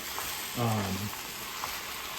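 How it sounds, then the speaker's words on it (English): Farm-raised ground beef browns in a pan for shepherd's pie, a faint steady sizzle under a brief low hum or voice partway through. "Now you want to brown it"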